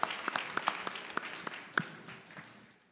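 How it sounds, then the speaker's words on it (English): Scattered hand claps from a small group at a Sunday puja service in a Toronto Hindu temple, a dozen or so sharp claps that thin out and fade over a few seconds with no one speaking. "let's give him a big round of applause"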